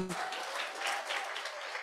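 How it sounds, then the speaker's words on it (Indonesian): A church congregation claps during a sermon, a sustained burst of many hands clapping at once, fairly distant and even, with a brief voice at the very start. "Yang diberkati oleh Tuhan boleh tepuk tangan bagi Tuhan."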